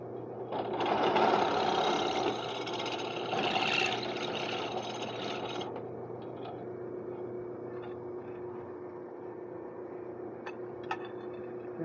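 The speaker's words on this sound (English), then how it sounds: "now I'm going to enlarge these holes to 3/4 inch" A power drill enlarges holes to 3/4 inch in metal conduit for a bipod hammock stand, a loud steady whirring grind for several seconds that drops to a quieter motor hum as it winds down.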